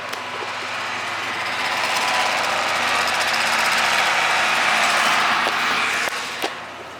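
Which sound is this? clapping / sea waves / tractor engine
tractor engine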